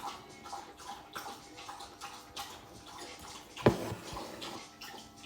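A pet lapping from its water bowl, faint soft wet laps repeating in an irregular rhythm, with one sharper splash near the middle, close by and without talking.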